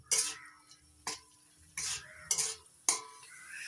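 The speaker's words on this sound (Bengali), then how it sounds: "এবার অল্প অল্প জল দিয়ে মশলাটা ভালো করে কষিয়ে নেব" Spice paste of ground tomato, ginger and green chilli being sautéed with a little water in a pan for a drumstick, potato and tengra fish curry, with five distinct scraping stirs over a soft sizzle, close and clear, with no talking.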